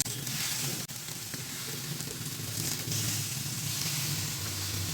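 Chicken and vegetable kababs frying in a pan, giving a steady close sizzle and hiss of hot oil with small crackles, continuous and alone.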